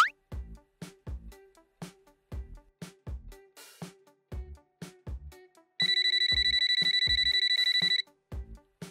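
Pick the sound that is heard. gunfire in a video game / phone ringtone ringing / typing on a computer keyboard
phone ringtone ringing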